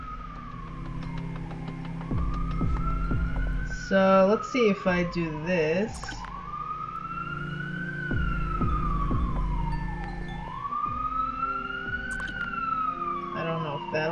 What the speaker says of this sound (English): Yeah, sorry about the sirens out there.